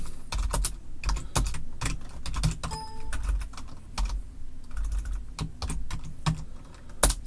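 Computer keyboard typing at close range, quick irregular clicks in short bursts with brief pauses, alone and moderately quiet.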